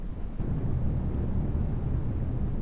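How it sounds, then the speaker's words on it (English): A deep, steady rocket engine roar in a video game rumbles continuously as the rocket descends through clouds, heavy in the low end and unbroken for the whole stretch, with no voices. "Hear that engine roar as it's coming down"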